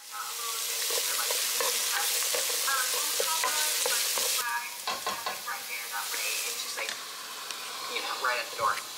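Potatoes and curry cook in a pan, giving a loud continuous sizzle with scraping stirs at first, then easing into intermittent crackles and clinks of utensils, with no speech.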